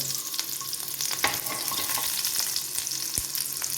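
Garlic, ginger and green chilli fry in a pan with a steady close sizzle and crackle, broken by occasional clicks and scrapes of stirring, with no voices.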